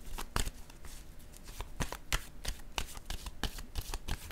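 Tarot cards being shuffled by hand, a steady run of crisp riffling and slapping card sounds at close range, with no voice over them.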